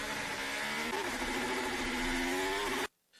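A loud, high-pitched Formula 1 car engine screams steadily with a rising, strained note, then cuts off abruptly into near silence at the end.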